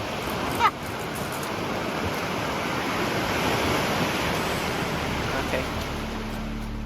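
Water surging after something big falls into a river, a broad continuous roaring rush like heavy surf that holds steady throughout, with a brief sharp splash early on.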